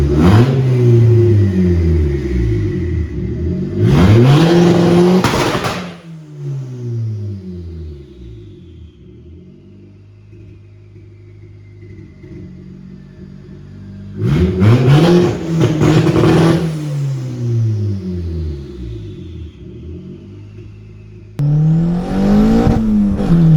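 A Honda CRX engine revs hard several times, loud roaring bursts separated by lower idling rumble, close by with no talking.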